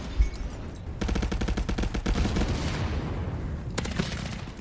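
P90 submachine gun fired in virtual reality on the Call of Duty map Dome, heard as a rapid, steady automatic burst lasting about three seconds, followed by a short second burst, close and loud with a dense rumbling low end.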